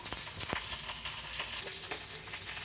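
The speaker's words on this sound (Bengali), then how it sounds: "আর এখানে আমি পটলটা ভেজে নিচ্ছি" Pieces of pointed gourd (potol) fry in oil in a kadai, giving a steady, moderately loud sizzling hiss with faint crackles and occasional clinks.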